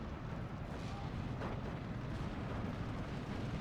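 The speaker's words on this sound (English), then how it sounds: "So much artillery coming in." Continuous heavy artillery barrage in the WWII strategy game Steel Division, a dense, loud rumbling wash of distant and overlapping explosions that never lets up.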